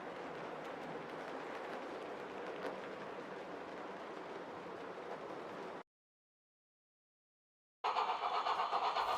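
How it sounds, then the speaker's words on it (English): A model LNER A4 Pacific steam locomotive in garter blue livery passes with teak carriages, a steady rolling rumble that cuts to silence partway, then a louder burst of running noise returns. "Gressley A4 Pacific Golden Eagle in its LNER garter blue livery, but without the original valances, passes by with Gressley teak carriages."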